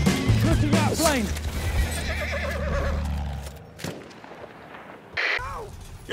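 A horse whinnies loudly up close in Battlefield 1, a shrill rising neigh at the start, followed by rumbling and a sharp bang.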